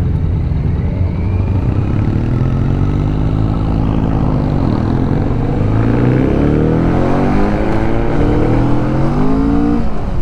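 Kawasaki Vulcan S 649cc parallel twin motorcycle accelerating hard through the gears, a loud close engine note rising in pitch and dropping at shifts, with steady wind noise throughout.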